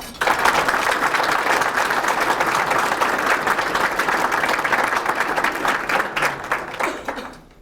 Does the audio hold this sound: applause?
yes